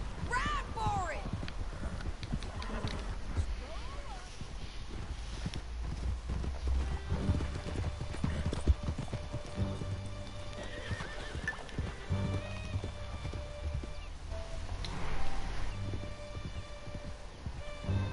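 Horses gallop through a canyon in Red Dead Redemption 2, with steady clip-clop hoofbeats and an occasional neigh, close and continuous under game dialogue and shouting voices.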